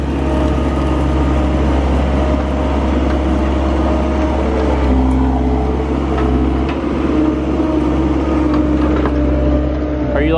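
A skid loader's diesel engine runs loud and steady at the new horse barn's concrete work, a constant low rumble throughout with faint mechanical clatter layered on top.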